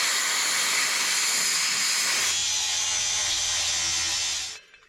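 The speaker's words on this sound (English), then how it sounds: "A little bit of WD." WD-40 lubricant sprayed from an aerosol can during rust repair work on a Cherokee, a steady close hiss lasting a few seconds before it cuts off.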